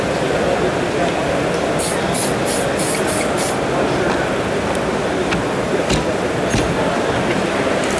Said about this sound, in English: we're going to glue it in with super glue and super glue activator